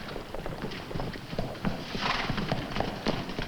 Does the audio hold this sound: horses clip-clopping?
yes